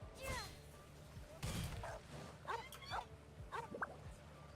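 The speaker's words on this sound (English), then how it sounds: "And a dog barking." A dog barks a few times in the Genshin Impact Lantern Rite event, short yips and bow-wows spread across the clip over game music and other sound effects.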